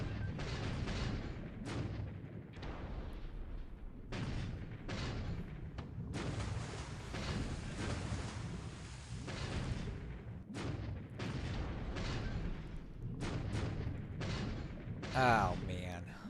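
Torpedo strike on a ship in War in the Pacific: repeated heavy booms and blasts thud out in irregular bursts over a continuous rumbling din, loud and dense throughout.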